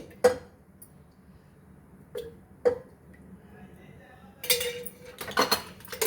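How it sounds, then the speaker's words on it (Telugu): A frying pan set down with a few metallic clanks and knocks, then a rougher clatter and pour-like rush as oil goes in, close and fairly crisp with quiet gaps between. "ఒక ఫ్రైయింగ్ ప్యాన్ పెట్టుకోవాలండి. ప్యాన్ హీట్ ఎక్కాక 2 స్పూన్స్ ఆయిల్ వేసుకోవాలి"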